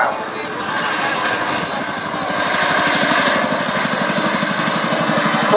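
A Chinook twin-rotor helicopter flying a role demonstration display at the Duxford summer airshow, with a loud, close, continuous rhythmic blade thump over a steady engine whine that grows slightly louder midway.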